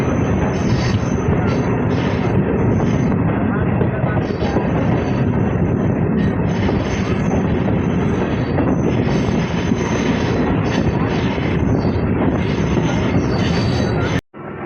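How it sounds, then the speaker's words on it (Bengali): A MEMU local train on the Azimganj–Rampurhat line arrives at Gosai Gram station with a loud, close, continuous rumble of wheels and carriages that drones steadily before cutting off abruptly. "তো আমাদের ট্রেন এসে পৌঁছালো গোসাই গ্রাম।"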